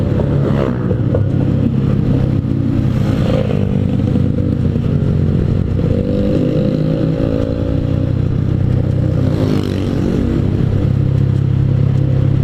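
A manual-clutch motorcycle rolls downhill in fifth gear with the throttle closed, its engine droning steadily at low revs with rattly clatter and rushing wind, loud and close throughout.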